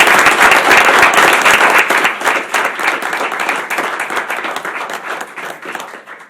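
An audience at a Novi High School board meeting applauds the 2019 Teacher of the Year, dense sustained clapping from many people that starts loud and slowly tapers off.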